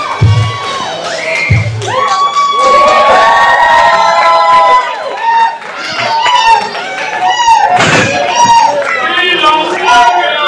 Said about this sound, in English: Kenny Bengal certainly has this crowd on their feet and in a good mood